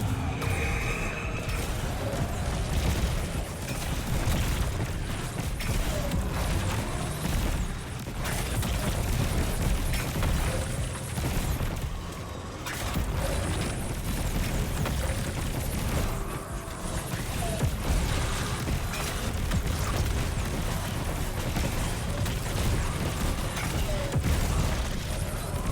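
Rocket launcher fire and explosions in a shooter game, the High Impact Frame launcher, with continuous dense booms and mechanical clatter running steadily throughout, loud and busy with no talk over it.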